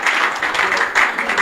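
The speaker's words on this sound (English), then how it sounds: "A round of applause." An audience applauds after a speech, a short burst of steady dense clapping that stays loud and close throughout.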